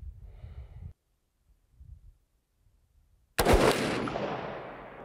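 A single loud, close rifle shot fired while sighting in a rifle at a range bursts in after quiet murmuring and leaves a long, fading rumbling tail.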